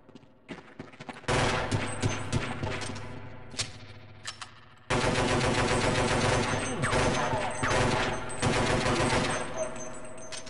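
Rapid automatic gunfire from a weapon in the horror video game They Hunger, loud dense bursts that start after a second, briefly break off and then resume in long sustained volleys.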